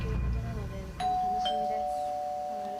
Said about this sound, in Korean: 초인종 소리가 들렸습니다.